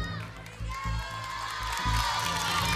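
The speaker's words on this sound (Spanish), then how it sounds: "un aplauso para ella, por favor" A studio audience at a Spanish-language TV singing competition cheers and claps for a contestant, a loud, sustained crowd roar with whoops and shouts.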